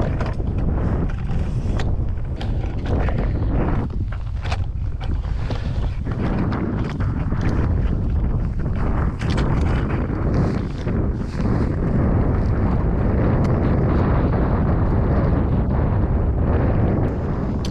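Strong wind of about 30 mph gusts outdoors on a frozen lake in winter, a constant loud roar buffeting the microphone for the whole stretch with no talking.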